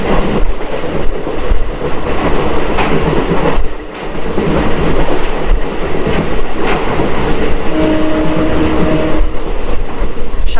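Riding inside a nearly empty DEMU special train, a loud, steady rumble of wheels on rails carries rhythmic clickety-clack beats and brief squeals, with no talk.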